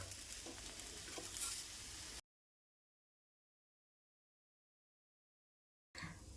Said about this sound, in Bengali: পরোটাগুলিকে একটু সময় নিয়ে উল্টিয়ে পাল্টিয়ে বেজে নিতে হবে